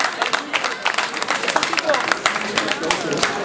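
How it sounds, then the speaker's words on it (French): An outdoor audience at a strawberry festival in Carpentras claps steadily for several seconds, with dense, uneven applause and a low crowd murmur underneath. "Ça s'applaudit, hein."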